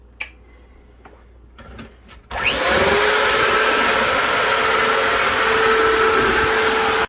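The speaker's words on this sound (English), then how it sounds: "we're going to take our beater, and we're going to beat it some more" A kitchen electric beater mixing batter starts with a sudden whir after a few quiet clicks, then holds a loud, steady motor drone right up close until the end.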